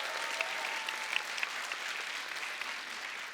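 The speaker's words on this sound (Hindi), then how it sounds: "इनके लिए भी जोरदार तालियां" Studio audience clapping on a Hindi comedy talk show, a continuous, even burst of applause with a few sharper claps standing out, moderately loud and without talk.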